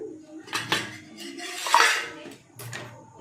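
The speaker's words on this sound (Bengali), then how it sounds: "আমি আলুগুলো একটু মেখে দেবো" Potatoes mashed into a pot of simmering ghugni, a vegetarian dish with no onion or garlic, produce a few distinct metal-on-pot scrapes and clinks in short bursts.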